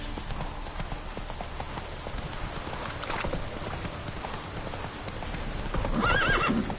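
Hooves of the horse in The Witcher 3 video game clip-clop steadily at a gallop against a rain-like patter, with a short whinny near the end.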